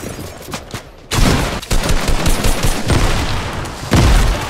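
Loud, close gunfire in a shooter video game, dense bursts of rapid shots rattling almost without pause and ending in a heavier blast.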